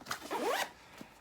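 A zipper opens on the bottom pocket of a Vanquest Katara 16 backpack in one quick, close rasping pull, followed by a faint tap.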